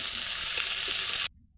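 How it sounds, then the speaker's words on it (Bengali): Onions frying in hot oil until lightly browned give a loud, dense crackling sizzle that runs steadily, then cuts off abruptly near the end. "আমি বেশি ভাজা করব না, হালকা লাল করে ভাজবো"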